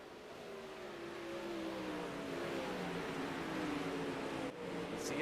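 Race cars roar through a heat race at a winter-season Monday night event, engines droning steadily at a distance with rising and falling pitch, no talk over them.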